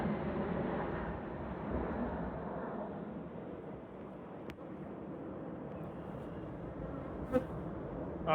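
Honeybees buzz around hives in an airport yard apiary in Michigan in spring, a faint, steady swarm drone with occasional closer passes and a few small knocks.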